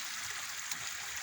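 Water pouring from a DIY pond filter waterfall tray, a continuous close splashing trickle that stays steady and even for a brief moment.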